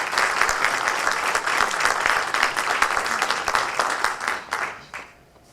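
A crowd at a sports hall of fame induction ceremony gives steady, full applause that fades out at the end.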